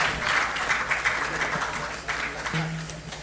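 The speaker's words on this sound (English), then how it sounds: "Please, can you give him a resounding round of applause?" An audience at an indoor stage event applauds to welcome a speaker, a dense, steady patter of many hands with voices speaking over it and a low hum in the background.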